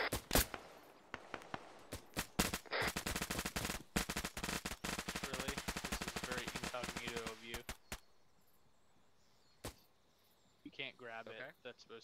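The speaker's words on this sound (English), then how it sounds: "Contact. Gunshots, northeast." Rapid automatic gunfire in a military video game, long dense bursts of shots filling most of the clip, then a pause with a few isolated shots and a brief voice near the end.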